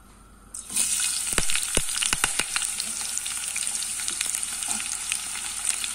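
Sliced onions dropped into hot oil in a kadai begin sizzling abruptly after a brief quiet start, a steady loud frying hiss punctuated by scraping stirs with a ladle.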